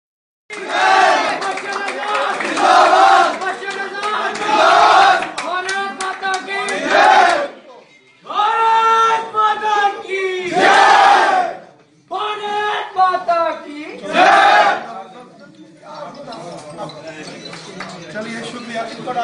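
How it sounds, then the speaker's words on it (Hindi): A crowd at a political joining event for the BJP cheers and claps loudly in repeated bursts, with shouted chanting and voices mixed throughout. "जोरदार तालियों के साथ"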